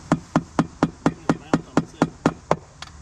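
A hammer strikes wood while a deck is being anchored to a house, a steady series of about a dozen sharp, evenly spaced knocks, close and loud, with no talking between blows.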